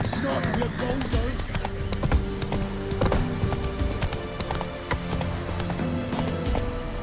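Roach the horse gallops in The Witcher 3, a steady, close clip-clop of hooves running continuously under background game sound and some voice activity.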